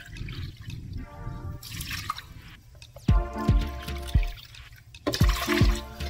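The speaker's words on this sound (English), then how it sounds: "Now that we have our rosemary broken up a little bit, you know, increasing the surface area a little bit, we're gonna add 2 cups of water." Water poured onto broken-up rosemary in a pot for stovetop rosemary water, a few splashing pours and drips with thuds, close and moderately loud, no talking.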